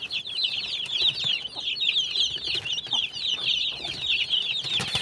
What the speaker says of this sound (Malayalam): കരിങ്കോഴിയുണ്ട്, പുള്ളിക്കോഴിയുണ്ട്, എല്ലാം തനിനാടൻ കോഴികൾ